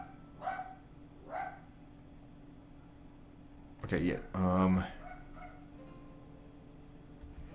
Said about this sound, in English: Dog's barking about something.